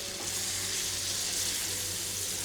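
Chicken frying in a pan with a steady, close sizzle and crackle, continuous and even throughout with no voices.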